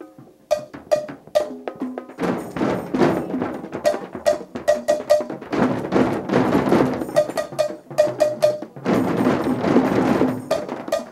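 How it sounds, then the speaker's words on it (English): Sharp, bright cowbell strikes tap out short rhythms, alternating with bursts of many drums banging back together as a group of drummers copies each pattern. "I've got this cowbell. Whatever you hear me play, you play the same thing."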